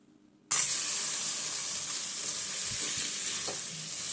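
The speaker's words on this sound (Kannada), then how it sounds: "ಈಗ ಅದನ್ನೆಲ್ಲ ನೀಟಾಗಿ ಫ್ರೈ ಆದಮೇಲೆ ಎತ್ತಿಟ್ಕೊಂಡಿರೋ ಚಿಕನನ್ನು ಹಾಕ್ಕೊತಾ ಇದ್ದೀವಿ" Pre-fried chicken pieces drop into a hot pan for chicken fry, bursting into a sudden loud sizzle after a brief quiet moment, then a sustained crackling fry with faint stirring scrapes, no talking.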